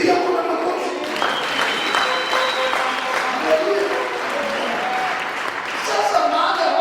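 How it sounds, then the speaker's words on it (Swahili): Church congregation applauding during a Sunday service, sustained crowd clapping blended with voices and a singer or speaker, loud and continuous throughout. "Piga kwa makofi."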